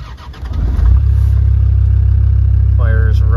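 A 1998 Land Rover Defender 90 TD5 diesel cranks briefly, catches and settles into a loud, steady, rumbling idle close by, and a voice speaks over it near the end.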